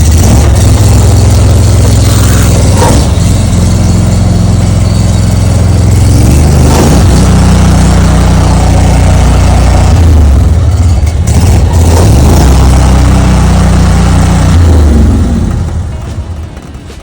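A Honda engine on a residential trash bin cleaning truck runs with a loud, steady, close-up drone. The low rumble carries on throughout with a few small surges and eases off at the very end.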